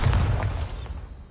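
A Bombarda blasting spell goes off in Hogwarts Legacy on PS5, a loud, deep booming explosion right up close that rumbles briefly and then fades over about a second.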